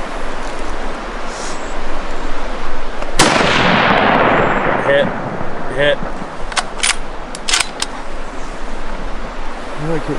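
A single loud rifle shot fired at a bear during an Oregon fall bear hunt, cracking sharply outdoors amid wind noise and trailing off in a long echoing decay, followed by faint scattered rustles.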